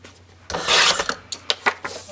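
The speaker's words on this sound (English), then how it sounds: "I'm gonna cut this piece off." A single sustained rasping cut through a paper scrapbook printable template, followed by a few shorter scraping strokes, close and fairly loud with no voices.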